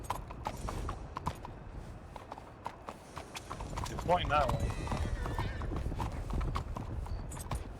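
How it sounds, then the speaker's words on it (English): Several horses gallop with clip-clop hoofbeats and a whinny in a video game, a busy rhythmic clatter running under near, steady talking voices. "Do you guys hear a bunch of horses?"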